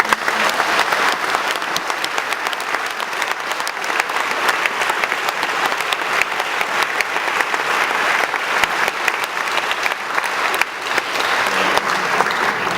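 An audience at a church open concert applauds steadily, the many hands blending into a dense, even clatter that carries on without a break for the whole stretch.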